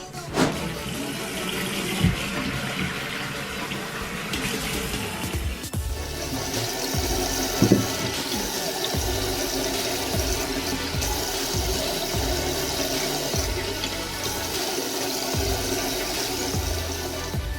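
Water runs from a tap into a sink while a face mask is rinsed off, a steady splashing stream with shifting gurgles and occasional bumps, fairly quiet and close, with no talking.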